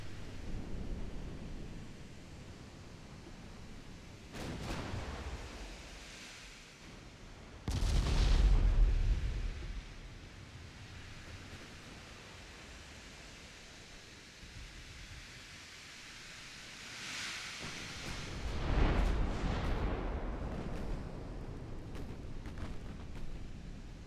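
Naval gunfire in the video game Ultimate Admiral Dreadnoughts, with two heavy booming salvos rolling out over a steady background rumble, moderately loud and spaced well apart.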